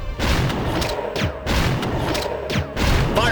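Repeated fire grenade blasts in a Resident Evil game, a series of heavy booming thuds with crackling fiery tails, several in quick succession about a second apart, loud and close with no talk.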